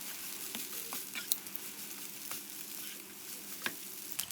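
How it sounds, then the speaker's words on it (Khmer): Seafood fried rice with egg is stir-fried in a hot pan, a steady close sizzle broken by a few sharp spatula scrapes and taps, with no talking. "ហើយយើងច្របល់បាយនឹងឲ្យវាសព្វជាមួយនឹងពងមាន់សព្វចឹងណា"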